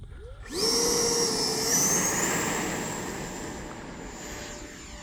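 An E-flite Viper 70mm electric ducted fan RC jet spools up and takes off on a sunny day at a flying field, a loud rising whine with a steady rushing roar that peaks and then slowly fades as it climbs away.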